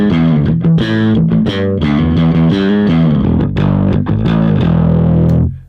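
A bass guitar through an Origin Effects Super Vintage overdrive pedal plays a loud, distorted, sustained riff with thick low notes and gritty harmonics, ringing out and stopping at the end.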